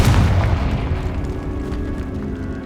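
A Confringo blasting spell explodes in the Hogwarts Legacy video game, opening with a heavy, deep boom that trails off into a rumbling decay.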